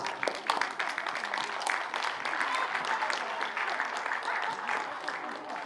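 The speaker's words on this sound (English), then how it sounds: "Can we give a round of applause to Sylvia?" Audience at a cultural performance event in Aotearoa claps for a singer about to perform, a sustained round of many hands with crisp claps up front, steady and moderately loud.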